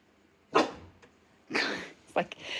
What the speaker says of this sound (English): Why are you standing on the bed barking?